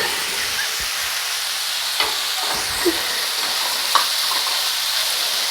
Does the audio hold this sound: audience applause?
no